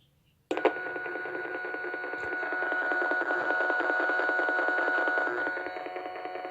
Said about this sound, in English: So that's what your antenna analyzer sounds like when it's analyzing.